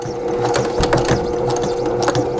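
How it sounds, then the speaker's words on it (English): A sewing machine top-stitching the strap of a small tote bag made from 5 inch squares, running steadily and close up with a continuous hum and rapid needle rhythm. "I'm going to continue sewing, slowing it down so that I don't go beyond the stitching"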